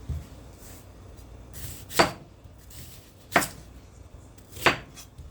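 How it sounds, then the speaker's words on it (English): A kitchen knife slices ingredients into thin pieces on a board for a Spanish rice and salt cod dish, three crisp, evenly spaced chops sounding close and alone against a quiet room. "So I'm just going to cut them in little slices, thin slices."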